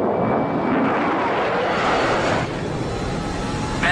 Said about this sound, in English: you're cleared for takeoff